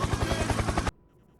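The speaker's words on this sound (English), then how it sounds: "Helicopter! Helicopter!" Loud rapid thumping of helicopter rotor blades with a whining engine, cutting off abruptly partway through and leaving near silence.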